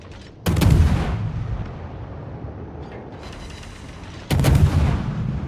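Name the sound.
Russian warship railguns firing, World of Warships video game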